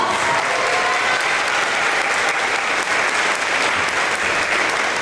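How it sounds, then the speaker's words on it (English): An audience at a fifth-grade promotion ceremony breaks into loud, sustained applause, a dense, even wash of many hands clapping together that lasts throughout. "So let's give them a round of applause."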